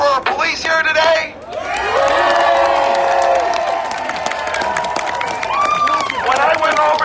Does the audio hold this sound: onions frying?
no